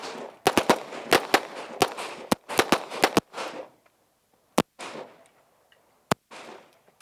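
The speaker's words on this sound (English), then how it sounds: "2-shot center mass, 1 to the head." Handgun shots fired at a target during tactical training ring out as sharp, loud cracks in quick clusters, followed by a few isolated shots with echoing tails and quiet gaps between.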